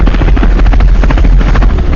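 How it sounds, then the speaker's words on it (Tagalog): A search and rescue helicopter flies close overhead, its rotor thudding in a loud, steady, continuous roar with no voices. "Sino ba yung mga nasa helicopter na yun?"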